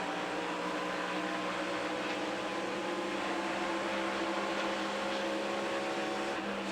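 NASCAR Xfinity race car engine from the 1997 Jiffy Lube Miami 300 at Homestead-Miami Speedway, heard as a steady, loud drone of engines at speed, continuous throughout with no talk.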